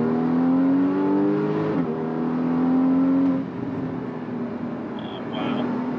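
Porsche Cayman 981 GT4 with manual gearbox pulling hard in second gear, a loud mid-engine wail rising in pitch, then a brief dip and a second climb before easing off, heard from inside the cabin.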